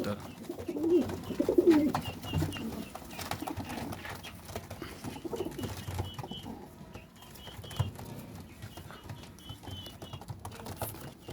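Pigeons coo in a few soft, low throaty bursts near the start, then quieter cooing and light fluttering and tapping continue at moderate distance in a pigeon loft, with no talking.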